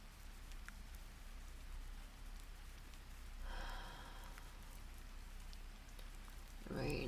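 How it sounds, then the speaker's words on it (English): Rain falling steadily, a soft, close patter of drops on a surface throughout, fairly quiet and even, with a slightly louder rustle near the end. "The rain still hasn't let up."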